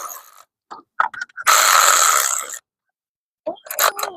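A ratchet tightens the transmission pan bolts on a Jeep Patriot CVT in a crisscross pattern. Short clicking bursts give way to one longer, dense run of ratcheting, then brief pauses and a few more quick clicks close by.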